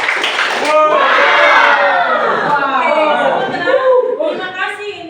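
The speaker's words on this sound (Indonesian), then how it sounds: "tepuk tangan dulu untuk" A school class cheers for a student, loud whooping young voices with some clapping and laughter, swelling and then fading.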